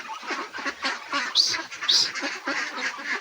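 Pet ducks quack nearby in a busy, overlapping run of calls, with two louder, sharper squawks standing out among the steady chatter.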